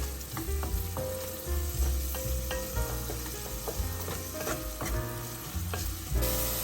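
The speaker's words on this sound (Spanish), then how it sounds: "Vamos a freír un poco aquí el ajo y la cebolla." Garlic and onion fry and sizzle in a pan, with scattered clinks and scrapes of stirring over a continuous close frying hiss.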